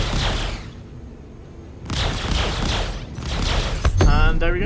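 Spaceship cannons hammer away in Star Citizen as a Vanguard Harbinger circle-strafes an enemy, a dense rolling barrage of loud rapid booms in two long volleys with a brief lull between them and a voice talking faintly underneath.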